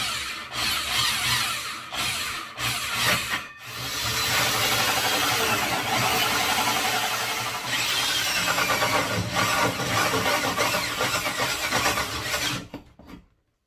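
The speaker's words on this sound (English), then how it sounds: "4-inch hole saw cut through there" A 4-inch bi-metal hole saw grinds loudly and steadily through a particle board desk, a dense, harsh whirring cut with a few brief stutters early on before cutting off abruptly at the end.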